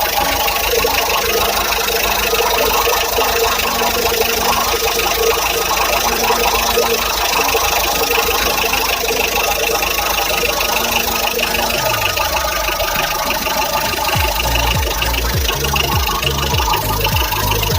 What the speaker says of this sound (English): Yeah, the engine is now up and running.